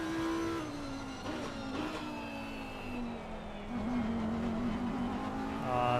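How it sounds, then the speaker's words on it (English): A GT race car in Assetto Corsa Competizione at Imola drones through a sustained engine note as the traction control cuts in, the pitch sliding and stuttering, with the revs rising again toward the end. "The TC, you can hear it. It really was fighting the car there."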